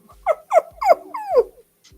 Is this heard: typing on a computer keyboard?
no